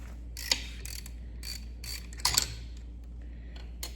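A ratchet with a 13 mm socket works on the bolts of a CAV injection pump on a Kubota M6950 tractor, giving several short bursts of quick metallic clicking with a couple of sharper knocks, close and fairly quiet.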